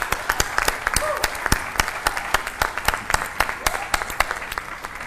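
Audience applause at a Peace One Day press conference in Goma, DRC, following a musical performance: steady clapping from a room of people, sharp individual claps standing out over a continuous patter throughout.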